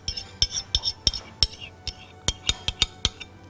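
Melted butter and chocolate stirred together in a bowl, with a spoon clinking sharply and repeatedly against the sides in an uneven rhythm, close and clear.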